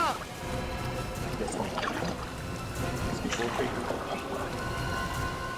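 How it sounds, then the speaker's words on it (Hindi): A boat moves on the Ganges with a steady wash of water and engine rumble throughout, while people talk over it. "बोट आगे लेना।"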